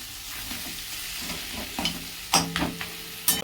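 Onion fries in oil released from a catla fish head in a pan, giving a steady close sizzle with a few louder stirring scrapes near the end.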